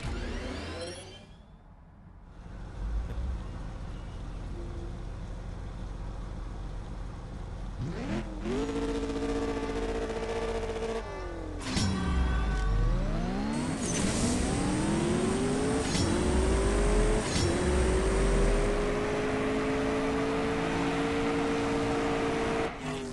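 TVR Sagaris engine in a CSR Racing 2 drag race, loud and continuous, with rising revs that climb repeatedly through quick gear changes, alone with no talk.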